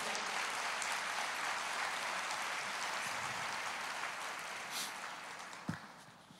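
Church congregation applauding during a Portuguese-language service, a dense steady wash of clapping that slowly thins out, ending with a single sharp knock.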